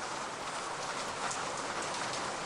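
Steady, dense rain pours outside a kiosk in a horror video game, a constant close hiss with no pauses and no voices.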